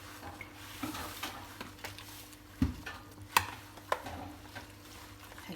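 Baghrir batter being stirred with water in a bowl, a soft continuous swishing with a few sharp clinks of the utensil against the bowl, close and fairly quiet, with no talking.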